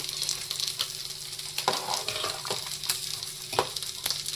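Fish frying in a pan until brown, a close crackling sizzle with scattered sharp pops and occasional stirring scrapes, with no voices.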